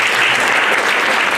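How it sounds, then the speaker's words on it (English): A workshop audience gives delegates a brief, loud, dense burst of applause, the clapping filling the moment evenly with no voices over it. "Let's give them a round of applause."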